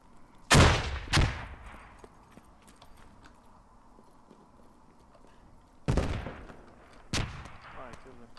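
Machine gun fire in the military shooter Squad: two sharp, loud cracks close together, a quiet stretch, then two more heavy reports, each echoing and trailing off over faint background noise.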